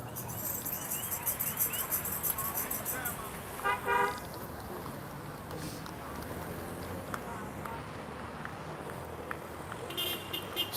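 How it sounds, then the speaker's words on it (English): Car horns toot in short bursts at a busy intersection where protesters have gathered outside a detention center, heard amid steady traffic noise and a crowd murmur. "people are honking their horn, giving them their support"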